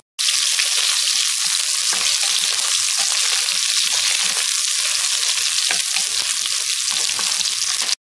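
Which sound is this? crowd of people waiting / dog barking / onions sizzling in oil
onions sizzling in oil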